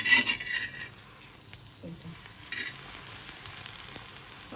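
Chickpea-leaf roll (alu vadi style) frying in hot oil, a soft steady sizzle running throughout with scraping clicks and shuffles of tongs turning it in the pan, brighter bursts at the start.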